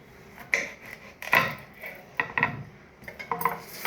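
A knife cutting a bottle gourd (sorakaya) on a board in a home kitchen, with several sharp knocks and clacks spaced irregularly, close and fairly crisp against a quiet background.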